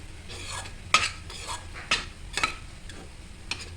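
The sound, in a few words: stirring rice flour into boiling water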